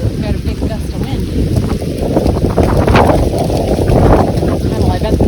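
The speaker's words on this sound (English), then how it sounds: "Got a big gust of wind." Strong gust of wind buffeting the microphone inside a small tunnel on the Appalachian Trail, a loud continuous low roar that swells and surges over several seconds.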